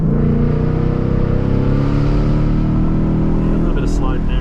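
A 2022 Mustang GT in manual mode revs loudly through controlled downshifts on a winding mountain road, its engine note rising and falling continuously close to the listener.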